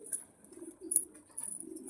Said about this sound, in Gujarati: આ કબૂતર કેમ બોલાય?